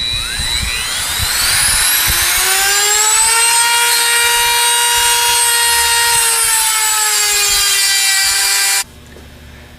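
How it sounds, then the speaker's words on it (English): A power tool grinds a cut into the outer bearing race of a Bosch alternator, a loud sustained high-pitched metallic whine that rises and holds steady for about nine seconds before stopping abruptly. "We're going to turn it to the other side and cut the other outside half of the race."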